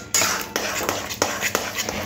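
A spatula scrapes and knocks against a pan while an eggplant and shrimp dish is stirred and dried, giving several quick, close metallic strokes over a steady background sizzle.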